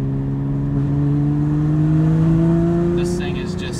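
A Dundon Motorsports Porsche Cayman GT4 with over 400 wheel horsepower accelerates away, its engine giving a loud, steady drone that climbs gradually in pitch, with a brief voice near the end.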